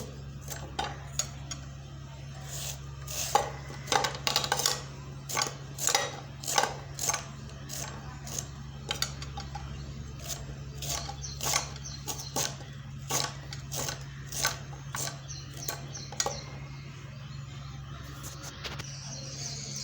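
A knife chops raw mango into small pieces on a board, a brisk run of sharp, irregular taps over a low steady hum, close and clear, with no speech.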